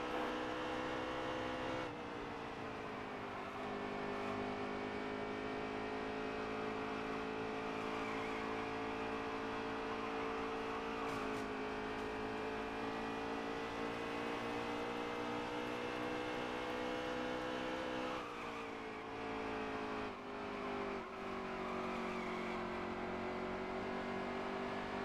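Race car engine in a video racing game on a last lap, a continuous loud droning whine holding steady with small pitch shifts as the car accelerates, with no voice over it.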